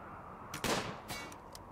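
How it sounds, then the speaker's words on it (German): Gunfire in the video game RimWorld: a few short bursts of shots, one louder central blast followed by fainter, sharper reports, moderately close over a low background hum. "Wir schießen auch gar nicht mehr so schlecht."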